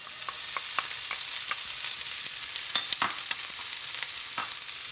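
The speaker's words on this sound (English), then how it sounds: "you just want to cook it until the bacon's kind of crispy." Bacon sizzles steadily in a hot pan while being cooked for spaghetti carbonara, a continuous frying hiss broken by scattered crackles and light pops, close and moderately loud with no talking.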